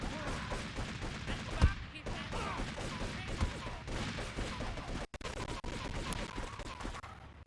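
Enemy gunfire in Grand Theft Auto III, a dense, continuous clatter of shots and bursts at steady loudness, with brief voices mixed into the din.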